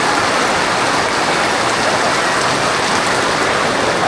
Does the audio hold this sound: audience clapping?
no